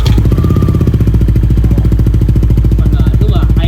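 A motor scooter, an NMAX or PCX, idles close and loud with a fast, even chugging pulse and a rough clattering tone, steady throughout with faint talk in the background.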